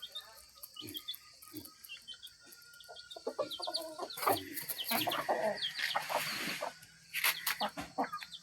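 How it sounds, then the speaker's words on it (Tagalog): Three brooding mother hens clucking in soft, scattered bursts, with other fowl calls and faint rural background noise, quiet and fairly close with no speech. "Ang tulo ka manok nga inahan naglumlum na di ay."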